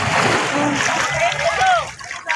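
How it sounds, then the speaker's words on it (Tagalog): Hot sea water bubbles and splashes up from the sand at Lemery, Batangas, close and loud, with sloshing and gurgling as voices talk over it. "Nakulo yung tubig."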